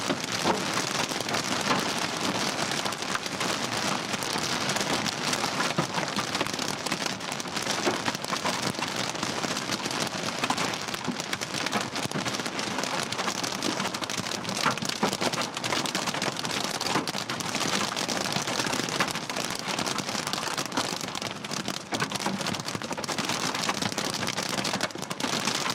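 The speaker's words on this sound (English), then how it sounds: "Now we got a bunch of small hail." Small hail pelts a car during a violent storm, a dense, continuous hiss of tiny impacts drumming on the bodywork at steady loudness.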